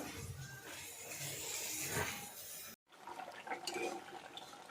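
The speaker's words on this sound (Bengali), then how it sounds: "এই যে গরম জল ঢেলে দিলাম আর সঙ্গে এই মাছগুলো দিয়ে দিলাম" Hot water being poured into a pan for cooking fish, a continuous splashing, gurgling pour that is cut off abruptly and then gives way to quieter trickling and clatter.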